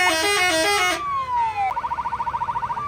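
Car horns honking from passersby cheering on the İskenderunspor team bus along a seaside boulevard after reaching the Turkish Cup quarter-finals; several overlapping loud honks, then a long falling tone and a rapid pulsing horn.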